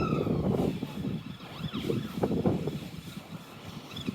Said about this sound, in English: Ambulance going past, obviously.